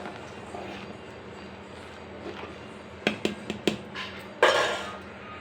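Oats upma being stirred in a metal pan, soft scraping at first, then several sharp spoon clinks against the pan and a final louder scrape, close by.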